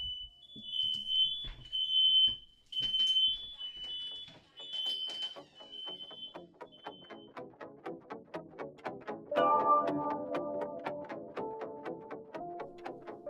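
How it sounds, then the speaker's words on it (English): A household smoke alarm going off as a false alarm, shrill high beeps blaring in an insistent pattern, then continuing pulses with other tones and indoor clatter behind them. "that was just a false alarm, an actual, literal false alarm you just heard going off in our house"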